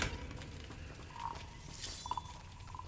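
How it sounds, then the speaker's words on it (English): A large frog in Hogwarts Legacy croaks in a few short, tonal calls spaced over several seconds, fairly faint against a soft game ambience with light clinks, no one talking. "Big frog."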